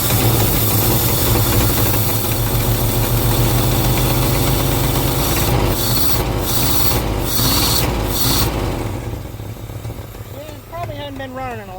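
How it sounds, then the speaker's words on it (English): A Fox Body Mustang engine that has sat for over fifteen years runs rough with an exhaust leak and no intake, a loud, uneven rumbling idle that fades toward the end as a voice talks over it. "Sounds like it might have a bit of an exhaust leak."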